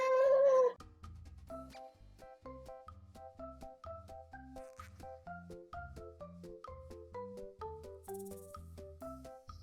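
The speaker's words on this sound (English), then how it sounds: "Is that a kitten or a koala?" A kitten lets out one loud, close meow at the start, followed by a bouncy melodic tune of plucked notes.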